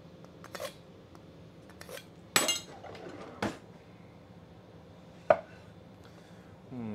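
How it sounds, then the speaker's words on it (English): A kitchen knife is sharpened in a handful of separate, crisp scraping strokes, each short and sharp with quiet pauses between them. "I'll sharpen it a little bit."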